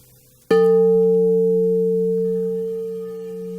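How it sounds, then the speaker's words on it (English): A crystal singing bowl is struck once and rings out in a pure, sustained tone with steady overtones, fading slowly over several seconds. "This is the note of the crystal bowl that resonates with the heart chakra"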